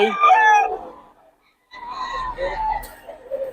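A Lemon Sweater gamefowl rooster crows loudly and close by, a drawn-out call followed by a pause, then more crowing and clucking with people talking over it.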